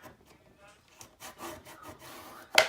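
A bone folder rubs back and forth over paper in a handmade embellishment mini album, producing soft, close scraping strokes that rise and fall in uneven bursts, ending with a sharper brief rasp.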